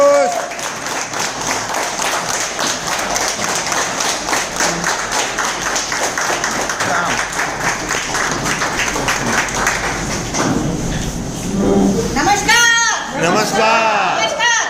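An audience claps vigorously for a husband and wife invited onto the stage at a business gathering, a dense, sustained burst of clapping lasting many seconds before a voice begins speaking near the end.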